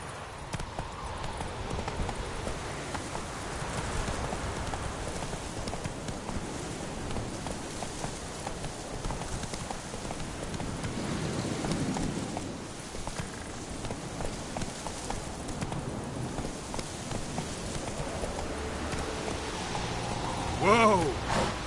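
Roach, a horse in The Witcher 3, gallops with steady clip-clop hoofbeats under a rain-like wash of game ambience, with voices talking over parts of the ride.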